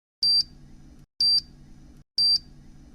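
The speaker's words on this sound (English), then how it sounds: "Is that the time bomb in your car, that beeping? It sounds like a countdown." Three sharp electronic beeps from a time bomb countdown in a car repeat at a steady one-second rhythm, loud and close, each a short high double-toned chirp with silence between.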